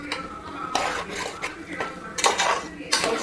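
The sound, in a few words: stirring Kerala-style chicken roast in a pan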